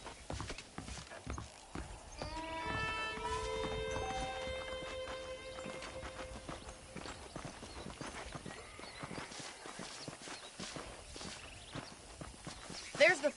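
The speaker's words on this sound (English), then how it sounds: "The horses are saddled up over here." Saddled horses' hooves clip-clop in the Red Dead Redemption video game, a steady walking rhythm under in-game character talk, with a brief harmonic tone early on.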